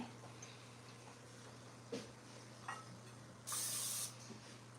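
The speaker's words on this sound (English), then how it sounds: "spray this. This is just going to help the pie come out of your tin a little bit easier" Cooking spray hisses from a can onto a pie tin in one short burst of about half a second over a quiet kitchen with a low hum.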